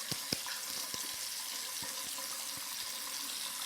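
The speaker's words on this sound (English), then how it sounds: "Wash my hands." Hands being washed under a running tap after lathering with shaving cream, a steady soft splash of water with small irregular drips and taps, fairly close and alone.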